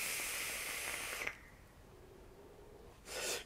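A long breathy hiss of e-cigarette vapour being exhaled, steady for over a second, then quiet, followed by a second shorter puff of air, close and soft.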